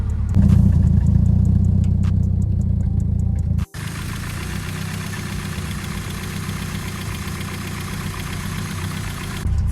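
Close and steady, a Toyota Celica ST185 with a newly rebuilt forged engine idles with a deep, even exhaust rumble, broken by one momentary dropout partway through; no one speaks.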